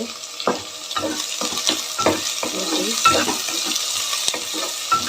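A medium tomato fries in a pan while noodles are being made at home, with close scraping and tapping stirs repeated over a steady sizzle and no voices.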